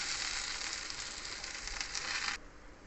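Okra (bhindi) fries in hot oil in a kadai with a bright, steady sizzle that cuts off abruptly near the end, close and moderately loud, with no talking.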